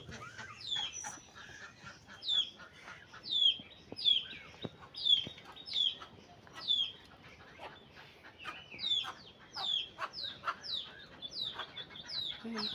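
Chickens and ducks in a village farmyard in the morning: repeated clucks and short calls arriving in uneven bursts, fairly close, over quiet outdoor background.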